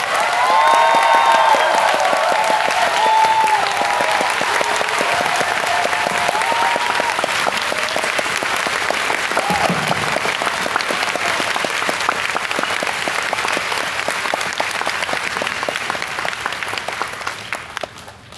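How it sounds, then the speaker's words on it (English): Sustained audience applause for an orchestra's string section at a Camp Philharmonic concert in Saigon, with dense, steady clapping that holds strong throughout and tapers slightly at the end. "please give a very big round of applause to people who have worked really, really hard"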